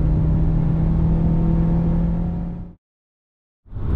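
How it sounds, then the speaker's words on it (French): A Kia car engine pulls hard while overtaking a Porsche, a loud, steady drone that cuts off abruptly to silence before briefly returning. "Mon but, c'est de dépasser la Porsche."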